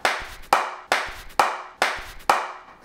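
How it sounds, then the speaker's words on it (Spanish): Six sharp hand claps at an even, deliberate pace, close and crisp with short decays between them. "tú tienes que dar un aplauso"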